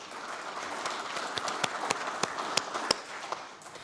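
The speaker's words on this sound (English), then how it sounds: "I just want to reinforce the fact that applause is permitted" Applause from an audience at a parliamentary nuclear industries gathering, sparse and moderately close, with individual sharp claps standing out over a soft continuous patter.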